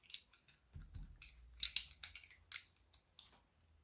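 Faint, crisp flicks and soft papery snaps as a fortune-telling card is drawn from a deck, in a quiet room with a low rumble underneath and no speech.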